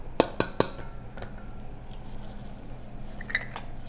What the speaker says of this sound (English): I'm gonna clean the spatula